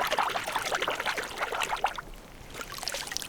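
Muddy, silty water trickles and pours out of the barrel of an S&W Carry Comp 2.0 or Walther PDP pistol outdoors, an irregular burbling dribble with splashy bursts, close and continuous, easing slightly midway.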